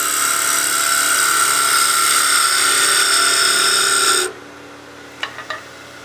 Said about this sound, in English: we need to do a peel cut here to give us a small shoulder that'll mount into the top of the lid